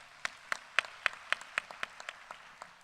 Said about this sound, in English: This calls for appreciation and applause to all those involved.